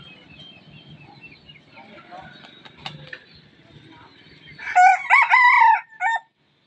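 A decoy rooster crows loudly near the end, a big harmonic cock-a-doodle-doo rising above a murmur of background chatter and farmyard noise.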